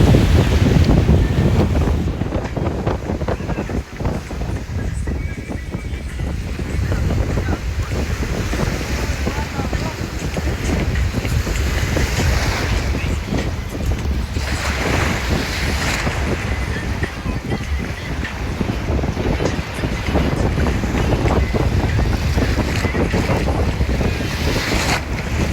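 Rough ocean surf pounding a beach with strong wind buffeting the microphone, a loud continuous wash of breaking waves across the whole stretch, with faint voices now and then.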